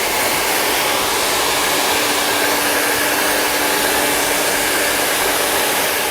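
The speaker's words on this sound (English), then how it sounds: "now I'm just going to get the hair dry and just blow some of the hair off" A hair dryer blows steadily to clear loose clippings from a man's freshly cut hair, a loud continuous close-up whoosh throughout with no talking.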